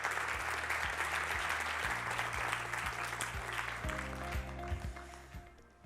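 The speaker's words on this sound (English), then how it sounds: "So give them a round of applause." Conference audience applauding steadily for about six seconds, broad dense clapping that tapers near the end, with a low hum and tonal notes underneath.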